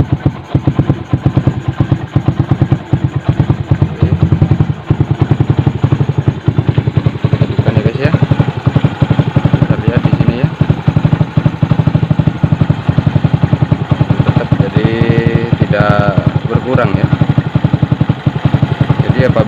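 A Yamaha Jupiter MX motorcycle engine, just fitted with a new water pump seal, runs at a steady idle with a continuous low mechanical throb and clatter close by, filling the whole stretch at constant loudness.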